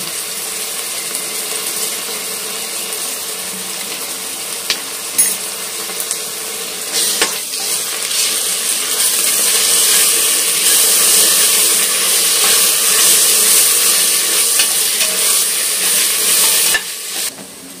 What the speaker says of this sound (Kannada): ಇವಾಗ ಈರುಳ್ಳಿ ಸ್ವಲ್ಪ ಫ್ರೈ ಆಗಿದೆ. ಈಗ ಶುಂಠಿ ಬೆಳ್ಳುಳ್ಳಿ ಪೇಸ್ಟ್ ಹಾಕ್ತಾ ಇದ್ದಾಳೆ